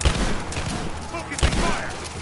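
A short burst of rapid gunfire in a Rise of the Tomb Raider firefight, two heavy low thumps standing out within continuous crackling shots, loud and close, with shouting voices mixed in.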